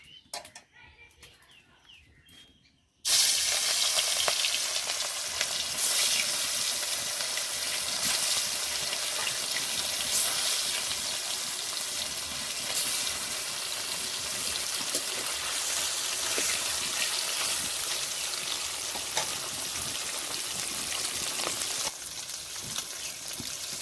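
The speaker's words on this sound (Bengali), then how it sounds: "তেল গরম হয়ে গেছে দিয়ে দেব মাছ" Rohu fish pieces rubbed with salt and turmeric hit hot oil in a kadai, bursting into a loud, steady sizzling hiss that holds for about twenty seconds after a short quiet start.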